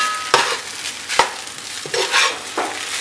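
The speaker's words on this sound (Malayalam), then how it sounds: "ഇതുപോലെ ഒന്ന് മിക്സ് ചെയ്ത് കൊടുക്കുക." Spiced rice for an instant biryani being stirred in a pan, with a few loud scraping strokes over a soft sizzle, close up and without speech.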